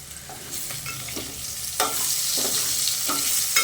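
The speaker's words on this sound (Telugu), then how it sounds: "మధ్యలో మధ్యలో కలుపుతూనే ఉండాలండి, కింద మాడిపోకుండా." Bitter gourd (kakarakaya) masala fries in a pan while a spoon stirs it. Repeated scraping strokes sound over a steady background sizzle, close and moderately loud, with no talking.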